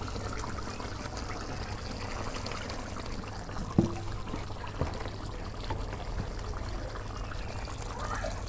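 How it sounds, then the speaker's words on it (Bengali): Gravy water is poured onto broiler chicken curry cooking in a pot on a rural clay stove, a faint, steady pouring wash with a couple of small clinks and no talk. "মাংস কষানো হয়েছে, এখন আমি ঝোলের পানি দিয়ে দেবো"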